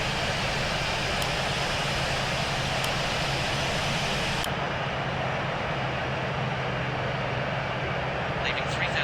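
An airliner takes off from a Heathrow runway, its jet engines giving a loud, sustained roar that holds steady across the whole stretch, with radio talk from the cockpit.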